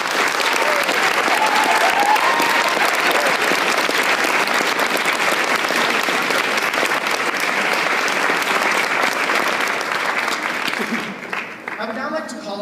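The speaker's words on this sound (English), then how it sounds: "Please join me in applauding her." Sustained audience applause at an award ceremony for a Queen's Diamond Jubilee Medal recipient, dense and steady clapping filling the room for about eleven seconds before thinning out at the end.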